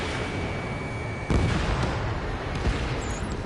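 A missile explosion destroys a vehicle in the jet combat game Ace Combat 7, heard as a sudden heavy boom cutting through a continuous roar of engine and wind noise, followed by a few fainter thuds.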